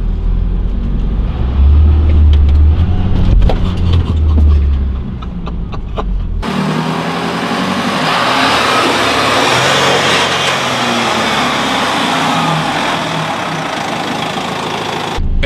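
Unimog engine working hard off-road on slippery, muddy ground, a loud continuous rumble that shifts abruptly partway through into a broader, rougher roar of throttle and tyre noise.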